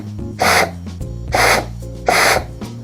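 A 4T60 automatic transmission on the bench has its clutch packs applied, giving three separate bursts of rushing, hissing noise at an even rhythm over a steady low hum, close up with no talking.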